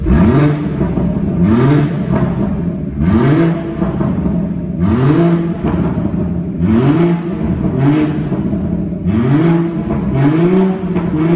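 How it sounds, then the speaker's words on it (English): BMW 340i M Sport Touring with M Performance exhaust, both valves open, revved repeatedly while parked: about six sharp, loud blips rising and falling in a steady rhythm over a throaty idle, with no talking. "so there are two valves on the um, performance exhaust and we've opened them both up"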